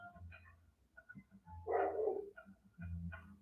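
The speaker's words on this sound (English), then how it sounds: "I hear the dog barking" A dog barks once in a short, loud burst in the middle, set against quiet background music and low hum.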